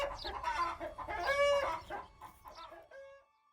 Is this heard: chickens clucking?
yes